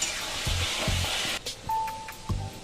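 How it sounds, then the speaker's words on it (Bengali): Ginger, garlic and chili paste frying in a pan for Hyderabadi chicken masala, a steady broad sizzle running throughout with a few soft knocks of stirring, close and fairly quiet. "আদা, রসুন আর লঙ্কার পেস্ট। এটা আমি এর মধ্যে দিয়ে দিলাম, দিয়ে এটাকে ভালো করে কষিয়ে নিতে হবে।"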